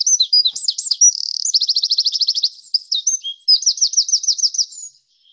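Wren singing a loud, rapid song of high, bright notes and fast trills, several trilled runs strung together over about five seconds, clear and close with no background noise.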